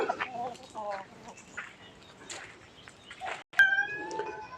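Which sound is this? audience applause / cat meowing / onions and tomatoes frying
cat meowing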